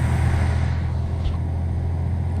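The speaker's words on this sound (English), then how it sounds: "Beautiful sounds in this truck." Cab engine of a DAF 95 ATi truck from a Euro Truck Simulator 2 sound mod, a deep steady rumbling drone holding close and loud throughout with no talk.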